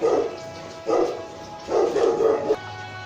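Dog barks three times in a short, evenly spaced series, fairly close and loud, heard during a live home recording.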